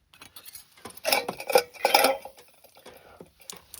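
A knife, fork, spoon and small spatula clinking together as they are handled on a homemade lightweight backpacking table, a few close metallic rattles and chinks clustered in the middle, light and dry.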